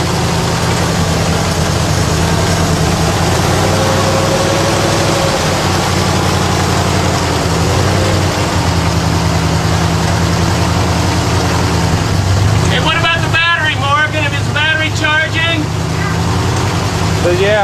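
A 1947 Ford engine, running for the first time after 31 years sitting, holds a steady, low, throbbing idle that is loud and close, with a brief voice heard near the end.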